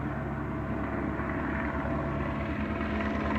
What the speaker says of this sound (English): Helicopter looking for criminals with spotlight.